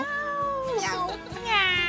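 Cats meowing, two or three drawn-out mews one after another with rising and falling pitch, close and clear, the last one higher and louder.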